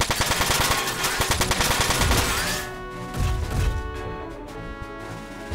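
Rapid machine gun bursts from the PS2 game Front Mission 4, loud rattling rounds firing continuously, then thinning into scattered impacts and a lingering electronic tone.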